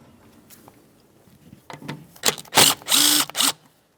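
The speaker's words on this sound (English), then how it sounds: "Before we remove the one 10mm headed bolt holding this in place here" A ratchet works the single 10mm bolt holding the rear ABS wheel speed sensor on a 2012–2018 Nissan Altima, a few quiet clicks building to rapid, loud ratcheting bursts close by before stopping.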